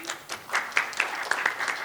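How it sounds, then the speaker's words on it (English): Audience at a journalism and democracy conference applauding, a steady wash of many hands clapping at moderate volume with no voices on top. "Please give her a round of applause before her presentation."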